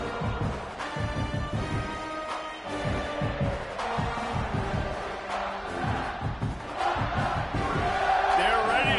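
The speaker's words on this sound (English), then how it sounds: "this crowd is buzzing after that last score" Crowd noise from a college football video game, Houston versus Baylor, with a steady, loud stadium roar and thumping impacts beneath commentators talking.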